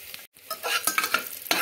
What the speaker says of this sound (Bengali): এখানে আলমন্ড আর আমি কাজুটাকে ভেজে তুলে নিচ্ছি